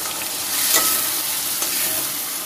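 Onion, garlic, ginger and green chili paste fries in hot oil with a steady, dense sizzle, broken by a couple of brief stirring scrapes, close and fairly loud, with no voices.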